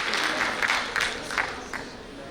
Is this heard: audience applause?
yes